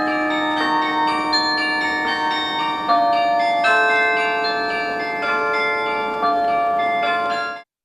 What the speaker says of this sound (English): the bells of Beaumont Tower rang for 15 minutes